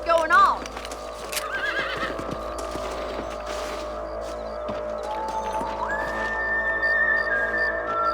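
In the video game Red Dead Redemption, a horse whinnies sharply, followed by clattering hoofbeats mixed with mechanical creaks and clicks, with a steady tone rising near the end.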